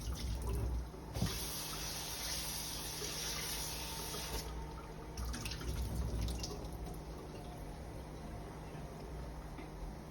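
Cold tap water runs from a kitchen faucet over chunks of cooked lobster meat being rinsed, a steady splashing stream that briefly rises and falls in intensity, with no talk.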